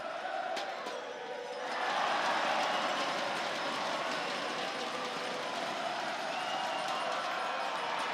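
A large basketball crowd at a men's national championship semifinal roars in a gym after the home team wins, the cheering swelling after a couple of seconds into a sustained, distant wash of noise.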